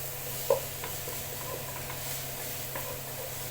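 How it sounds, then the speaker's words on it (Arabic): Chopped onions stirred and sautéed in a pan for a meat dish, a soft steady sizzle with light stirring scrapes and one brief knock near the start, close and fairly quiet throughout. "بس هشوح البصل وبعدين انزل باللحمه"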